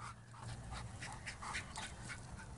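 A dog pants in quick, breathy bursts close by, with faint whimpers mixed in, while other dogs play nearby in a home in Berkley, Michigan; no talking.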